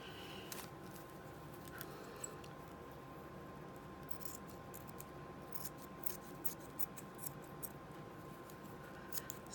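Quiet, steady snipping of scissors through fabric, a series of soft rhythmic cuts over a faint background hum.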